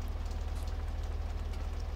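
Steady rain falls in Farming Simulator 17 as a Massey Ferguson tractor prepares to plough. There is an even, constant hiss of rainfall over a low droning engine hum, with no voices.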